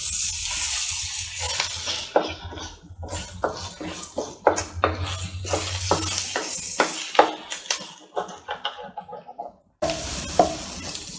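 Beaten egg being stirred and mixed in a hot pan for Chinese egg noodles, a soft sizzle under repeated scraping and clinking strokes of a utensil against the pan, close and steady.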